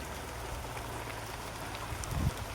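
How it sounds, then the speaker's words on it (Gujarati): Light rain beginning to fall outdoors under dark clouds, a soft steady hiss of fine drops with a faint low rumble and a brief louder bump near the end. "ઝીણો ઝીણો વરસાદ ચાલુ થઈ ગયો છે"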